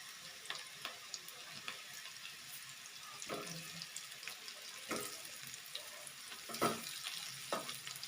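Stuffed ridge gourd pieces fry in hot oil, giving a soft continuous sizzle broken by several sharp clicks and scrapes of stirring, with no voices.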